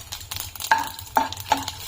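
Mustard seeds, cumin, dried red chilies and peanuts crackle as they fry in hot oil, with a few sharp pops and spitting bursts over a steady low sizzle and no voices.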